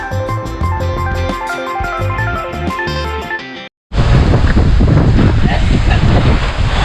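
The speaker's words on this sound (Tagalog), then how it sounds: "so ngayon hangin na lang sobrang lakas" Strong wind on a mountain hiking trail at Mt. Romelo in Siniloan, Laguna, on the way to Buruwisan Falls, buffets the microphone with a loud, continuous roar, following a few seconds of tonal music.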